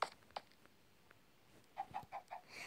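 Faint, soft clucking from chickens in the video game Minecraft, a few scattered clucks early and then a quick run of four or five toward the end, quiet and distant.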